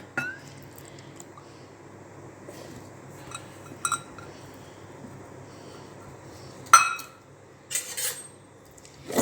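Two eggs with chopped onion, crushed cumin, pepper and rock salt are beaten in a bowl, giving soft, sparse clinks of a utensil against the dish with a few louder taps near the end.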